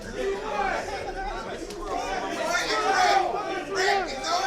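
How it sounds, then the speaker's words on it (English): Lively crowd chatter at an outdoor rap battle, many overlapping voices murmuring and calling out at a steady, fairly loud level throughout with no single voice standing out. "This is the most lively the crowd has been by far"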